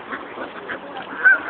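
Ducks honk and quack in a short burst of close, nasal calls, with several overlapping voices and one louder honk near the end.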